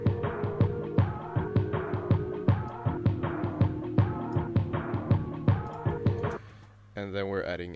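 A dark beat with drums and a melodic loop runs through a tape mellow effect, giving steady punchy hits under warm tonal layers. It cuts off near the end and gives way to a brief, different wavering sound.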